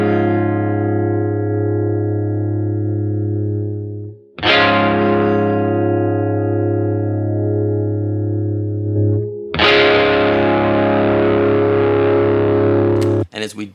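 Re-amped electric guitar, with note dynamics edited in Melodyne, plays three long, loud distorted notes in a row, each sustaining for several seconds before the next attack, ending in a brief clipped burst.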